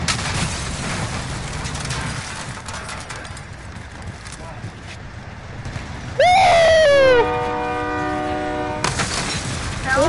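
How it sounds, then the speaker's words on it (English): A video game train rumbles past with a loud, sustained horn blast midway, followed by steady tonal rail noise, while players talk excitedly over the top. "Train is taking me back."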